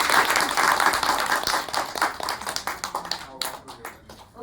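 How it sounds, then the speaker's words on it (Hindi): A group at a devotional gathering for the goddess Mai Dhuttani claps together in full applause. It then thins into scattered, rhythmic individual hand claps that fade toward the end. "ताली बजा दो मेरी माता"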